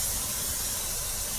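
An aerosol spray can sprays paint onto suspension fork lower legs in a second coat, a soft, steady hiss that runs without a break and with no voices.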